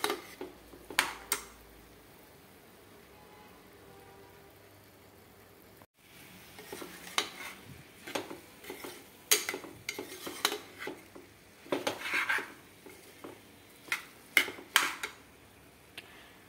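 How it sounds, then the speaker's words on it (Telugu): Rice is stirred in a pot just after being added, giving scattered clinks and scrapes of a utensil against the metal, close and intermittent, with a short quiet pause before the stirring resumes more busily. "బియ్యం వేసిన తర్వాత ఒకసారి కదుపుకుందాము."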